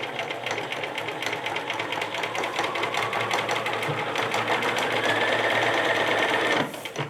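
A sewing machine runs steadily up close, its rapid rhythmic stitching chatter continuing for several seconds before stopping abruptly.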